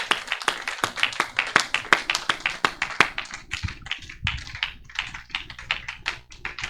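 A church congregation claps in quick, sharp bursts, starting in a steady rhythm and then turning into looser, denser applause. No one speaks.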